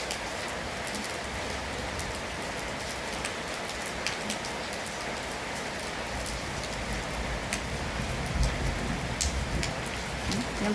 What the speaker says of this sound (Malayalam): പക്ഷെ ഇപ്പോൾ അവിടെ മഴയാണ് കേട്ടോ.